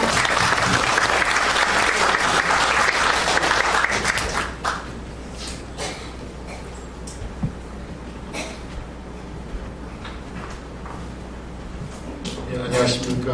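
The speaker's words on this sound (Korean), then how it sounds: "박수 부탁드립니다." An audience at a Korean city humanities declaration ceremony in Jongno claps loudly and continuously for several seconds, then the applause thins out into scattered claps and room murmur.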